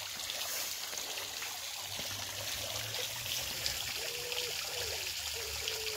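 Water trickles and splashes softly and continuously into a garden pond, a gentle steady babble outdoors with no voices.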